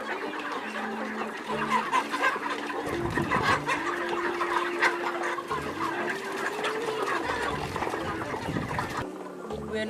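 Broiler chickens on a poultry farm in Abim district cluck steadily and overlap one another, close and busy, while people talk now and then in the background.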